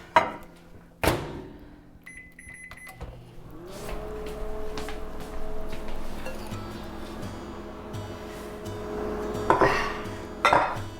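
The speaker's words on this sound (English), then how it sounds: "we're gonna let these soften in the microwave" A microwave oven softening food for pork posole hums steadily after a few clicks and a beep, with occasional clinks of dishes in a quiet kitchen.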